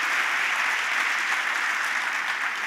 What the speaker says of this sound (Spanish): Le damos un aplauso a Dios por esos seguros.